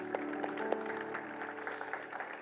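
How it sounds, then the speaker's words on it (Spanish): A church congregation claps briefly, scattered hand claps over a faint sustained background tone, fairly quiet and distant. "Denle un fuerte aplauso al Señor."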